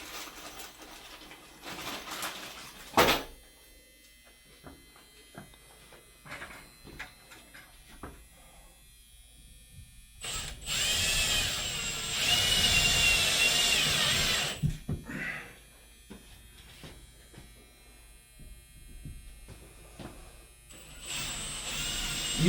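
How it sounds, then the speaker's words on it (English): A power drill bores holes into a wall for heavy-duty anchors rated at 105 pounds each, mounting a bracket for a vape vending machine; one sustained loud whirring burst stands out amid scattered clicks and handling knocks. "I then start installing all my anchors."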